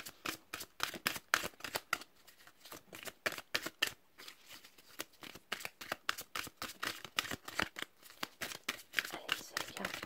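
Tarot cards being shuffled over and over, a steady run of crisp riffling slaps and soft flutters close up, fairly quiet, with no talking.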